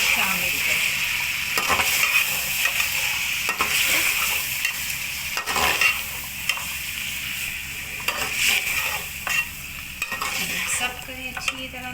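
Ground spinach being stirred into chicken and potatoes in a frying pan, a steady sizzle under repeated scraping strokes of a spoon, close and continuous throughout.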